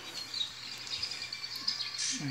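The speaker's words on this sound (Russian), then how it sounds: "Ой, там птички на экране." Small birds chirp and tweet faintly from a screen in quick, scattered calls, with a thin electronic quality, over a quiet background.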